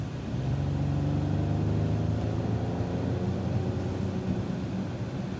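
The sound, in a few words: Mercedes-AMG GLE 53 accelerating in Sport Plus mode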